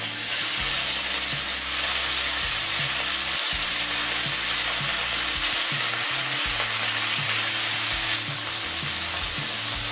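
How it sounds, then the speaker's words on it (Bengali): Amodi fish frying in hot mustard oil over a high flame, a loud, steady sizzle filling the whole stretch with occasional stirring or scraping, no voices. "এবার মাছগুলো ভেজে নেব।"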